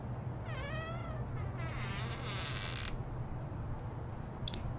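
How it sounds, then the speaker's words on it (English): A balcony door in a horror-style video game creaks loudly and suddenly, drawn-out squeaky groans rising and falling over a steady low ambient hum, followed by a brief faint click. "The balcony door lets out a loud and sudden creaking, which cuts through the silence like a knife."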